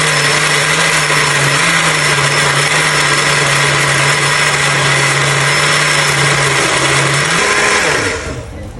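A blender purees fresh cucumber with a little water, a loud steady motor whir with a sustained low hum that dips briefly near the end as the motor winds down, heard alone.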